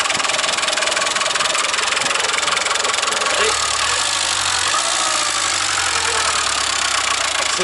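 A Citroën CX turbo diesel runs with a loud, clattering diesel knock and a harsh broadband roar, steady and close. The note shifts partway through into a lower, uneven idle rumble.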